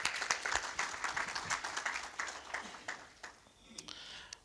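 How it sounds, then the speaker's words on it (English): Audience at an actuarial society convention claps for panel members, a dense patter of hands that thins out toward the end, with some voices mixed in. "Let's give them a round of applause."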